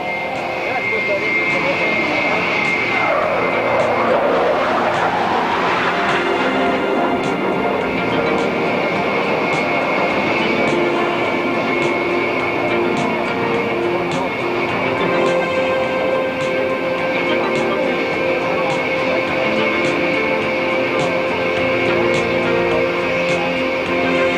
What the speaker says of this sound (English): Captain Bull is now coming from right to left to pass in front of us at 500 knots and 500 feet.